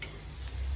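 Soy sauce being stirred in a hot frying pan while honey garlic salmon cooks, a steady close sizzle with scraping stir sounds and no speech.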